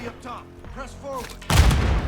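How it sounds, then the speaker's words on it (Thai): Voices talk briefly, then a stun grenade in Call of Duty Modern Warfare 2 erupts in a tight space as a sudden loud blast that lingers as a harsh, ringing burst of noise. "ระเบิดเสียง"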